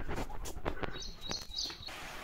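A sparrow chirps near its nest, which sits in a spot sheltered from rain, giving a few faint high tweets against quiet outdoor background.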